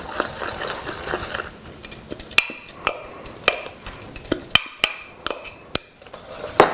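Egg mixture is whisked into homemade chicken broth in a pot for stracciatella, with rapid, sharp metallic clinks of a whisk against the pot in an uneven rhythm over a soft simmering hiss, close and clear.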